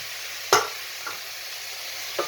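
Lamb stew with three green chilies sizzles in a pan in a curry kitchen, with a spoon scraping through it in three distinct strokes over the steady frying hiss.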